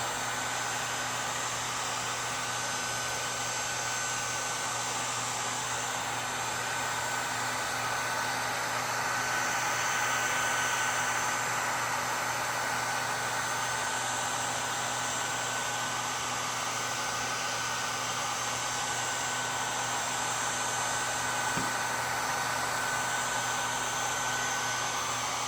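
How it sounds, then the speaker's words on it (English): A heat gun blows a steady, even whoosh of hot air, held close, as window tint film is shrunk onto a car's rear glass, continuous with no pauses and no talking. "I will slowly move my heat gun towards the edge, and then I'll go lower about an inch and a half."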